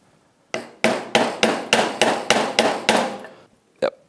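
A rubber input shaft seal is tapped with a hammer into the upper housing of a Mercury 40 HP outboard, eleven sharp, evenly spaced knocks in a steady rhythm, then a short pause and one final blow as it bottoms out.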